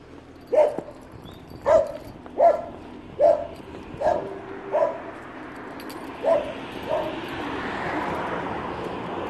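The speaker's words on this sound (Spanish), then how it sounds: "¿Le ladrás a Messi?" A young dog barks nearby in a steady series of about eight evenly spaced barks. The barks slowly grow softer over a background of mild room noise.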